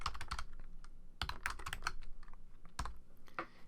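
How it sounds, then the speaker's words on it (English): Keys clatter on a computer keyboard in quick, uneven bursts of close, crisp clicks while a line of text is entered in Photoshop Elements. "let's type in St. Patrick's Day."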